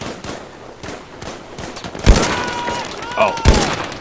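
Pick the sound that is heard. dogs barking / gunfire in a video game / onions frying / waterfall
gunfire in a video game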